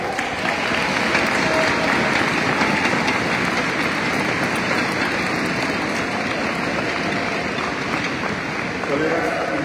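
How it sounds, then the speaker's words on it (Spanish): Loud, sustained applause from a large crowd at a Nissan Kicks production launch ceremony in Aguascalientes, a dense steady wash of clapping that continues for several seconds with a voice faintly under it. "Aplausos fuertes."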